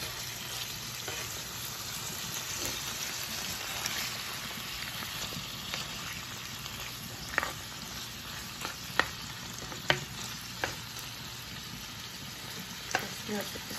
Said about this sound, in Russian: Тут у нас уже мясо обжаривается.